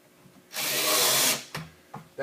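A power drill drives screws through a drapery tie back, whirring in one loud burst of just under a second, followed by two short, fainter spurts.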